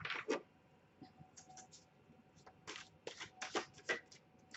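Affirmation cards are shuffled in quick, crisp bursts of riffling and flicking, close and fairly quiet, with short pauses between them.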